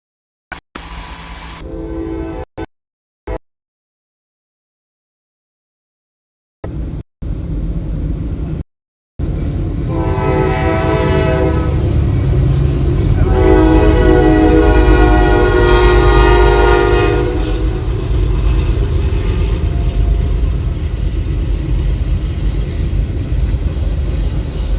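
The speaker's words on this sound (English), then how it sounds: "what the train actually seems like." A BNSF freight train passes in Friona, Texas. After a few brief cut-off bursts, a loud, continuous rumble of rolling cars swells in with long blasts of the horn sounding over it, close and sustained.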